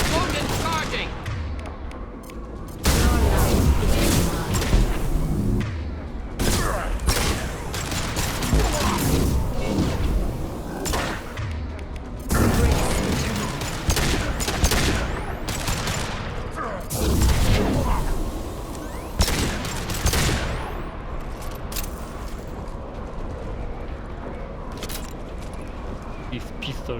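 Pistol gunfire in Mass Effect 2 during intense combat on Insanity difficulty, with repeated sharp shots and clattering impacts and a voice talking over much of the fighting.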